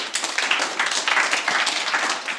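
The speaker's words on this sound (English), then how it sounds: "Let's give Josh applause." Workshop audience clapping for a speaker at a physics conference, a dense, bright patter of many hands, steady and fairly close throughout the short burst.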